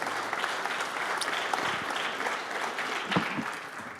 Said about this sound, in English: a warm round of applause for our guests here today